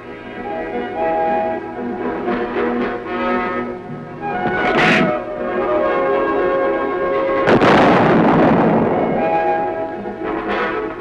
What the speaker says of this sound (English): A charge is added and the weapon is ready to fire.